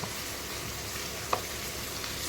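Ginger-garlic paste hits hot oil for chilli soybean, giving a soft, even sizzle that runs throughout, with a single small click partway through and no speech.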